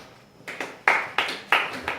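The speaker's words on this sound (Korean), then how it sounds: "박수 쳐 임마." A few students in a classroom giving sparse, uneven claps, about six separate hand claps spaced irregularly over two seconds, close and moderately loud.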